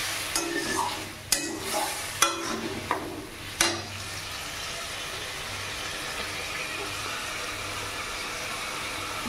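Prawns are stir-fried in oil with a splash of water for lau chingri. Several quick scraping stirs open the sound, then a steady, even sizzle carries on alone.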